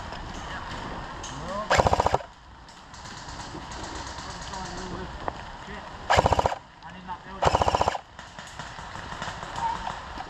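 Airsoft GPMG machine gun firing outdoors on a skirmish field, three loud rapid mechanical bursts of about half a second each, close by, with players shouting in the background between bursts.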